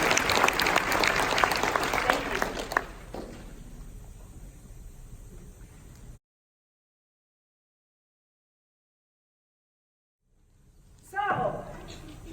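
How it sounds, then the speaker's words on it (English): An audience claps for young people, bright dense applause that thins out after a few seconds, followed by a stretch of dead silence and then a short burst of sound near the end. "When we give these young people a round of applause."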